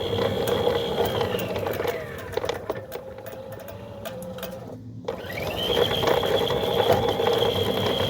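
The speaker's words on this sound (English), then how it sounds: "Now you'll see that the gate motor is going to run at full speed." Centurion D5 Evo sliding gate motor running at full speed, a steady whirring, ratcheting mechanical drone with gear whine that dips briefly and shifts pitch mid-run before resuming, close and fairly loud.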